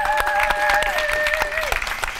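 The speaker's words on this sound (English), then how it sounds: "Let's give them a round of applause." An audience at a holiday event's opening ceremony claps in sustained, dense applause, loud and close, while sustained tones ring underneath.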